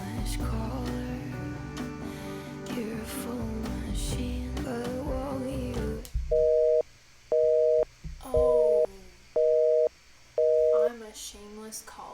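A repeating telephone tone sounds as a musical element in a song: five evenly spaced steady beeps ring out loud and clean after a dense stretch of music, with short gaps between each tone.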